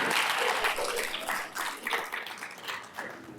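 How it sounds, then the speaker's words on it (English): Audience clapping at a formal oration in a lecture hall, a short burst of moderate applause that thins out quickly, with no speech over it. "you can clap for your own institution"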